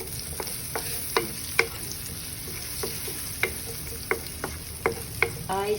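Onions frying in a pan for potato hash with bacon, a soft steady sizzle broken by repeated sharp clicks and scrapes of stirring, with no talk.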